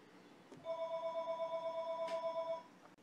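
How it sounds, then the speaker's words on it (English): A telephone rings with a warbling electronic trill in one continuous burst of about two seconds, moderately quiet in a room, with a couple of faint clicks around it. "Why does the phone keep ringing? Stop ringing."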